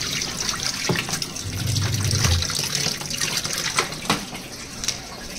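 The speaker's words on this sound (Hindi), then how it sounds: "निचोड़ रही साफ पानी में।" Washed jeans are wrung out over a tub of clean water, giving a continuous close trickle and splash with a few sharper drips and slaps of wet denim.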